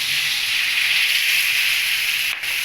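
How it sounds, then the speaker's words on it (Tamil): Dissolved tamarind water poured into hot oil and masala for vendakkai puli kuzhambu, producing a loud, steady hiss of sizzling close up with no voices, with a brief dip near the end. "கரைச்சி வச்ச புளியை நம்ம சேர்த்துக்குவோம்"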